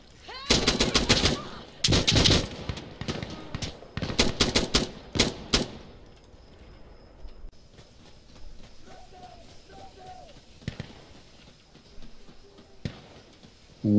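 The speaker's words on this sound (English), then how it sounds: "I just got sniped. And I sniped him in the head." Insurgency Sandstorm firefight: several rapid bursts of automatic gunfire close by in the first half, then quieter, with isolated single rifle shots and sniper cracks spaced out and a few faint voices between them.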